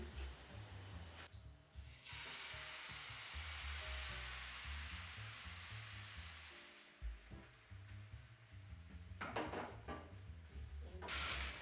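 A long, airy hiss and sizzle of pancake batter frying in a hot pan with a drop of oil, with faint clatter of utensils near the end.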